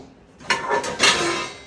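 Dirty, ghee-greased dishes and glass tumblers are handled in a quick, close clatter of clinking vessels lasting about a second, with no one speaking.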